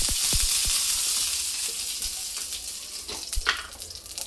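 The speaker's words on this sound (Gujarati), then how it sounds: "તેલ નાખ્યા બાદ તેની અંદર રાઈ નાખીશું। રાઈ તતવે તેની પછી અંદર આ જીરું નાખીશું। થોડો મીઠો લીમડો નાખીશું।" Mustard seeds, cumin, curry leaves and sesame seeds sizzling in hot oil for bottle gourd chilla: a strong hiss that slowly fades, with sharp pops and crackles scattered throughout, close and alone.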